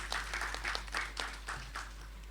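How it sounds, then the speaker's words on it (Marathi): An audience at a Marathi stage reading claps for a performer, a fairly faint, slightly distant patter of many hands that swells and eases in short waves over a low steady hum. "एकदा जोरदार टाळ्या ललिता वैशंपायन यांच्यासाठी."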